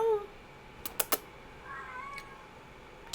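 A cat gives a short meow with a rising, wavering tone, near and clear, set among a few sharp tapping clicks like typing on a keyboard.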